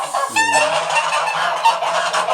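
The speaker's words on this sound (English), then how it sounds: "These are Sebastopol geese." Loud, harsh honking from several Sebastopol geese at close range on a farm animal sanctuary, overlapping calls filling the whole moment with no pauses.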